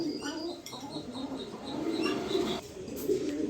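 A running pair of pigeons in a ball cage, softly cooing and chirping with a brief flutter of wings, close and moderately quiet throughout.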